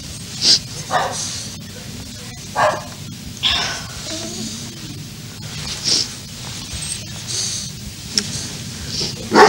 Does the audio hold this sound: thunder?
no